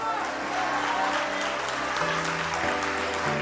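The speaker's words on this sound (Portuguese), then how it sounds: "como eu gosto quando o pessoal começa a aplaudir e vai se levantando para aplaudir a Jesus" A church congregation applauds Jesus during a worship service, steady dense clapping filling the room throughout, with music or singing tones underneath and no clear speech over it.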